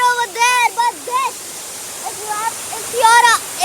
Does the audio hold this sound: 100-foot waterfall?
yes